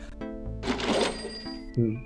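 The cash register in Gabriel Knight (1993) rings and its drawer springs open with a rattling mechanical clatter, a bell-like chime, then a short clunk near the end.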